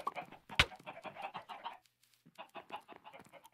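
Parrots in the Minecraft video game give a run of bright chirps and squawks, repeated in quick bursts with a short pause midway, close and fairly loud, with no talking over them.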